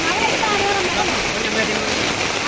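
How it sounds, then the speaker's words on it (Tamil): Steady, dense hiss of heavy rain pouring down, loud and continuous with no pauses. "சரியான மழை அடித்து கொண்டிருக்குது"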